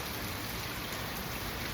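Steady rain falls in a dense, unbroken hiss, close and even throughout with no pauses or voices, on a rainy day at a family home.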